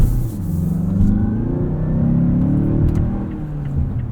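A 2020 Mazda CX-5 Signature Turbo AWD pulls hard off the line, its engine rumbling low and loud as it builds revs, with a steady deep drone heard from inside the cabin.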